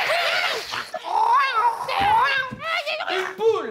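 A person vocally imitates an angry cat with wavering, yowling cries and hissy bursts, loud and close, repeated over several seconds.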